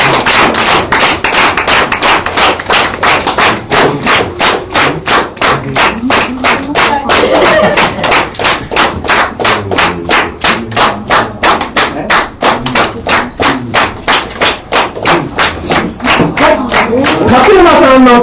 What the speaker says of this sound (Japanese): はい、手拍子お願いします。